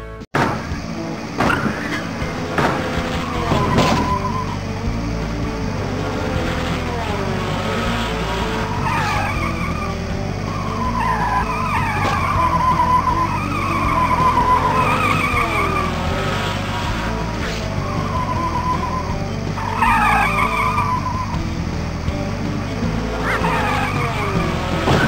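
Cartoon race cars in the Putt-Putt video game roar off the line and skid repeatedly, with engine drones and squealing tire chirps that rise and fall over a busy, continuous stretch.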